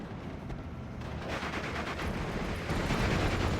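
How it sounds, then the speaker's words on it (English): Machine gun fire in the World War II strategy game Steel Division 44 during a large mechanized assault with half-tracks, heard as dense, continuous crackling bursts of gunfire at a moderate distance that grow louder. "A lot of rifles coming in along half track, so there's a lot of machine guns"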